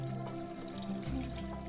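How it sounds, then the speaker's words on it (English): Boiling water poured over wooden butter pats to scald them during traditional Irish butter making, a steady close pouring stream over a humming background. "every once in a while give them a good bit of heat from some boiling water."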